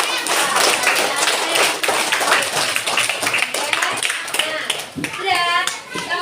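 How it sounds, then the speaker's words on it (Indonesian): Children clap their hands together in a classroom lesson about ablution, a dense burst of clapping mixed with lively kids' chatter and an adult voice. "Tepuk tangan dulu"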